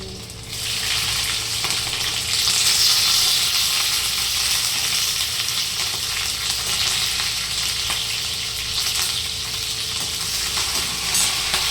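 Curry leaves, garlic, green chili and cumin fry in hot oil in a pan, a loud, steady close-up sizzle and crackle that holds for the whole stretch.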